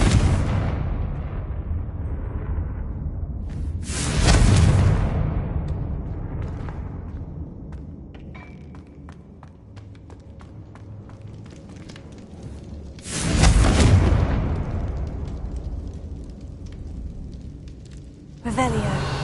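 Two loud booming blasts from the Confringo spell in Hogwarts Legacy burst out several seconds apart, each with a broad crackling decay, over a low game rumble.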